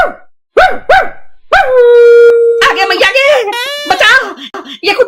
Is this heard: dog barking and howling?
yes